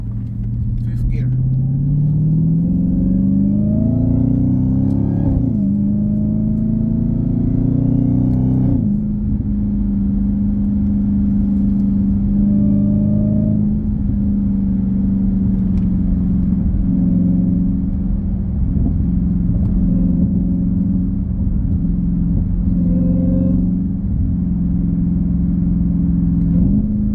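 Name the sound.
Dodge Hellcat Widebody engine accelerating, paddle shifting to fifth gear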